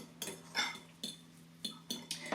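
A spoon scrapes and clinks against a bowl while mixing couscous with pesto, giving five or six evenly spaced, fairly quiet strokes with no talking.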